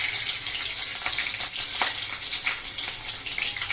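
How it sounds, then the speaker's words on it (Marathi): Chili pieces drop into hot oil for a Marathi tempering while making milk pithale, giving a steady, close crackling sizzle with faint stirring clinks and no talk. "आता मी मिरच्याचे तुकडे टाकते"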